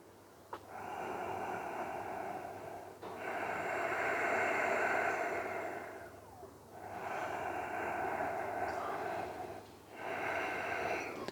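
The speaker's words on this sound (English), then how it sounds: "Breathe in, breathe out." Slow, deep yoga breaths, inhaling and exhaling in long, even cycles, each one a close, airy rush that swells and fades, with about four full breaths and no talking.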